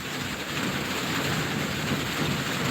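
Steady rain pours down in a thick, continuous hiss that fills the whole stretch evenly, loud and close, with no talk over it.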